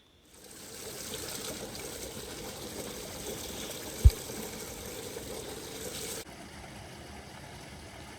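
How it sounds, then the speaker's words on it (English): River water pours over the sill of a slope weir and runs down to the riverbed, a steady broad rushing wash with one brief sharp knock partway through, dropping to a quieter flow near the end. "The water falls over the sill and carries on and hits the bottom of the river."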